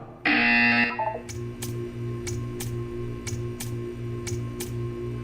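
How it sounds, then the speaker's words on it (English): A loud electronic buzzer in the video game Portal 2 blares for under a second, followed by a steady series of soft ticks over a low hum. "You will hear a buzzer."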